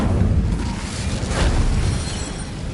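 Incendio fire spell cast in Hogwarts Legacy, a single loud whooshing burst of flame that swells briefly and then dies down. It carries a rumbling low end and plays alone without any talk.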